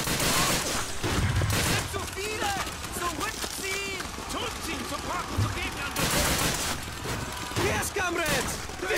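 Bursts of rapid gunfire from a weapon in the video game Call of Duty: Finest Hour rattle in clustered volleys, mixed with game effects and chatter under a speaking voice.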